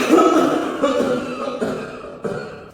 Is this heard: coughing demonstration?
yes